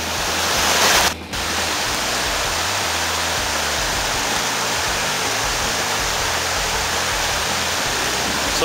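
Water pouring and rushing out of underground rubble in a rocky area, a loud, steady hiss of flow close by that drops briefly once before continuing.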